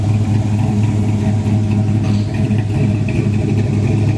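A blueprint 500 hp V8 in a 1970 Chevrolet Nova SS idles with a steady, deep, loud rumble, running close by and alone throughout.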